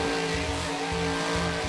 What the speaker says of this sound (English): As he's still slinging those donuts